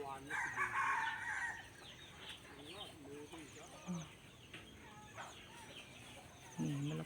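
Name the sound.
chickens clucking and rooster crowing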